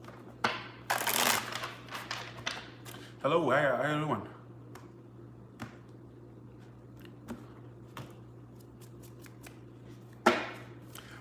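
Brief riffling bursts of tarot cards being shuffled, close and crisp, with a person speaking softly between them and a low steady hum underneath.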